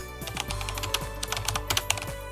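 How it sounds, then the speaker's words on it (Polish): Someone types quickly on a computer keyboard under Windows, a close run of crisp, irregular key clicks over a low steady hum, with no talking. "Wciśnij na swojej klawiaturze Windows plus R i wpisz RecEdit."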